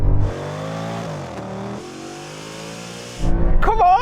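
An Audi S8 accelerates hard from a drag race start, its engine rising in pitch, dipping at a gear change and climbing again, followed by a loud rev and brief squeal near the end.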